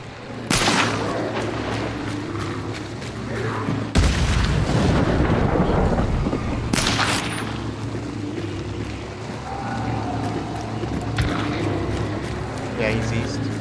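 Repeated heavy booms and gunfire bursts ring out at intervals during a fast-paced shooting match, with people talking throughout.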